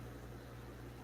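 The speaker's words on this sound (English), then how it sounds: "I'm sorry about the noise from that fan." Steady whooshing hum of a running fan with a low motor drone, constant and close, with no other sounds.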